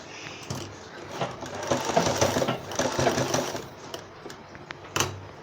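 A sewing machine stitches folded lace onto a newborn baby cap, a steady close mechanical whirr with fast rattling needle strokes that swell and ease off.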